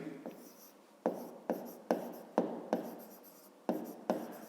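Pen or pencil writing out a fifth-grade maths exercise on paper, heard as a series of distinct scratchy strokes, about eight sharp onsets each trailing off, close and fairly quiet with no talking.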